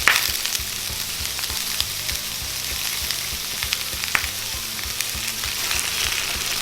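Garlic sizzling and frying in a pan for rack of lamb, a steady close crackle with small pops and the light scrape of stirring throughout, no voices.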